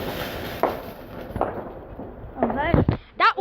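Bonfire-night fireworks bursting outdoors, several sharp bangs and crackles spaced through the clip, with a rising whistle near the end, while people exclaim and chatter nearby.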